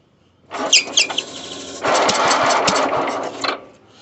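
Sears Suburban 12 garden tractor engine turning over on choke, a short burst of cranking that breaks into a rough, louder running roar for about two seconds before cutting off, close by with no talking.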